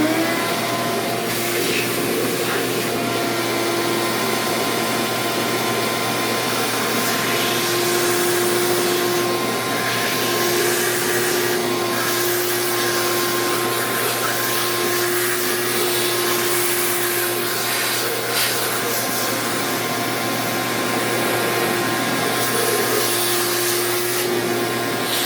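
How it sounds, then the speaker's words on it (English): Vacuum cleaner sucking up wood chips and dowels from a workbench, running as one loud, steady, continuous roar with a constant whine and no pauses. "I'll vacuum, suck them up and use them."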